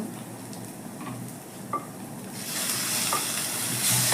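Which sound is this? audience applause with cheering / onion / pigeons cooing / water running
onion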